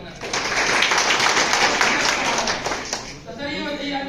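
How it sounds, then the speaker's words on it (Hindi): An audience at a large seminar in Dumka breaks into loud, dense clapping that swells and holds for about three seconds, then fades as a voice picks up. "नीचे जोरदार ताली होना चाहिए"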